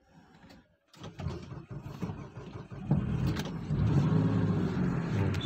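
Kia Carnival GS MPV engine starting and running with a smooth, steady low hum, a brief click and pause before it settles into an even idle that grows slightly louder.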